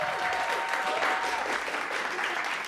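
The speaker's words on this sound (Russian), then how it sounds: "Аплодисменты." Applause, a fairly quiet, steady patter of clapping from a small audience, with faint voices mixed in underneath.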